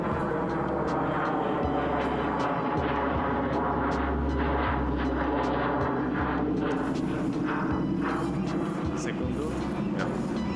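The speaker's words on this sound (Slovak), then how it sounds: "lietadlo." An airplane drones overhead in Alaska, a loud continuous rumble with a low hum running under it. Talk is heard over the engine noise.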